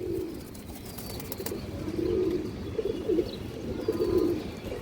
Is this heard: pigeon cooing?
yes